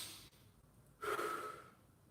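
A single deep breath, audible and close, rises out of a quiet, hissy room about halfway through and fades within half a second, with no talking.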